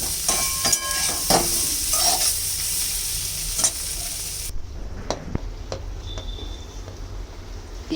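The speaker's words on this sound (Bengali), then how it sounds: "আলুটাও কষিয়ে নেব। খুব ভালো করে একটু কষাতে হবে।" Potatoes sautéed and stirred in a pan for a vegetarian dish with pumpkin stems and papaya, giving a constant sizzle broken by repeated scraping strokes and a few sharp utensil knocks. The frying grows quieter midway.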